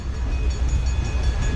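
The 25 Up Bahauddin Zakaria passenger train, led by an HGMU 30 locomotive, rumbles through Bahawalpur railway station as a loud, low, continuous rolling drone with no voices over it.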